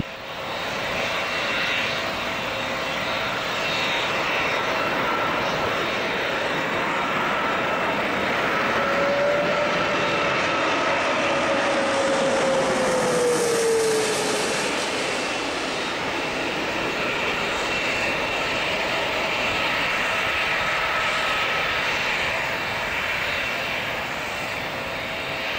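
Etihad Airbus A330-300 landing at Geneva airport, a loud steady jet engine roar that swells as the aircraft passes close by mid-clip, with a falling engine whine, then holds as a continuous rumble.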